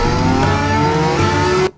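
A loud motorcycle engine revs hard and steadily up close, the tone climbing slightly before cutting off abruptly, with no distinct tire impact evident.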